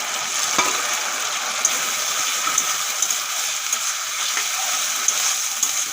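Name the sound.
shrimp coated in turmeric and salt frying in a pan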